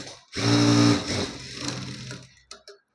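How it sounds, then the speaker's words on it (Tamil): A sewing machine runs in a short burst while stitching the front piece of a blouse, with a loud motor whir at first that trails off into lighter mechanical rattles and a couple of small clicks. "அதே மாதிரி பாதி கொஞ்சமாக இன்னொரு தையல் போட்டு எடுத்துக்கலாம்"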